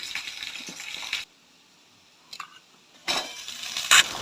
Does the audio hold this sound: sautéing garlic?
yes